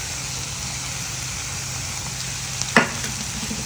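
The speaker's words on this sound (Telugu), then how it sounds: "ఈ మసాలా అంతటి మిక్స్ చేసుకొని ఫ్రై చేసుకున్నటువంటి పన్నీరు" Paneer fries with a masala of cumin powder in a pan, a steady soft sizzle with one brief scrape of stirring near the end.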